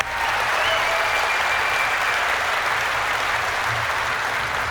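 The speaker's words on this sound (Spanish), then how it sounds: "Y un aplauso para todos los del equipo de Bungie" Sustained audience applause for the Bungie team at a Destiny 2 gameplay presentation, a dense, steady wash of clapping from a large crowd that holds loud and even throughout.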